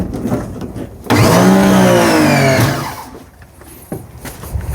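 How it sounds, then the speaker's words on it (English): A pressure washer for car exterior cleaning kicks on with a loud, whirring motor whine that rises in pitch, holds for about a second and a half, then winds down into quieter background noise. "we're gonna go ahead and turn on our pressure washer"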